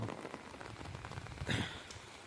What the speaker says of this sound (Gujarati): એટલો વરસાદ આવી ગયો ભૂકા કાઢી નાખ્યા